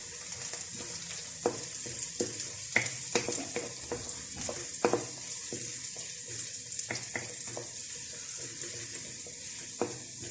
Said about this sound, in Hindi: लहसुन और प्याज हमारा हल्के से फ्राई हो चुका है।